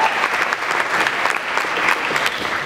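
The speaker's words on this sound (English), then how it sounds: "If you can have a big round of applause for Jerry and our four lovely speakers." A conference audience at an SEO event in Brighton gives a big round of applause for the speakers, a dense, steady clapping that holds loud throughout without speech.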